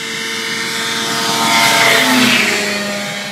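A Rotax 503-powered Raven light airplane screams past low, its engine whine swelling to a peak midway and then fading as it moves away, with no talk over it.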